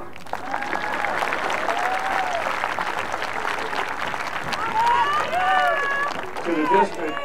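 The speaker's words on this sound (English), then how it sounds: "Applause." Sustained applause from a sizable high school graduation audience, with cheering voices and whoops rising above the clapping.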